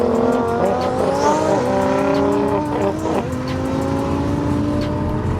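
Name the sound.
drag cars in a roll race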